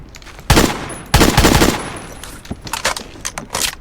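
Minigun fire in the first-person shooter Phantom Forces, delivered in a couple of loud, dense sustained bursts with shorter rattling bursts trailing off afterward.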